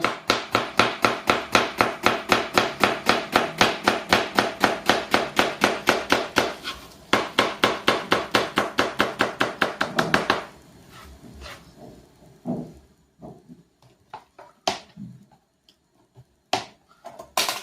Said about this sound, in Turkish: Soğanlarımızı ince doğrayacağız.